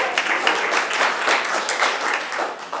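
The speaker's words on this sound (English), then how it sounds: "Yeah, you can applaud that" Audience at a Jewish humor presentation breaks into warm, sustained applause, a full wash of many hands clapping continuously, with faint voices mixed in.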